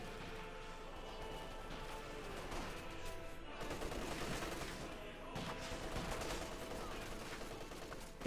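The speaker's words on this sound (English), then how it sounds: "Bit of shooting there, Falconers versus Guardsmen." Scattered rifle and machine-gun fire between Falconers and Guardsmen in Company of Heroes 2, a faint, distant battle crackle with occasional heavier bangs under a low wash of ambient noise.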